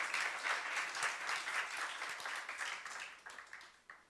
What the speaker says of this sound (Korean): 믿는 사람만 박수로 하나님께 영광 돌리시기 바랍니다.